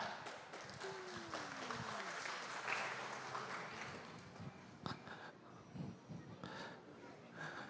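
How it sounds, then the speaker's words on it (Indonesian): Audience applause at a children's talent contest in South Kalimantan, a sustained wash of clapping from a crowd that swells and then thins into scattered claps, with an announcer's voice over it. "beri tepuk tangan yang meriah."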